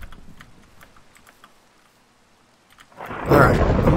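Thunder rumbles in during a video game storm, a loud rolling crash building in the final second after faint rain and keyboard tapping, with no talking.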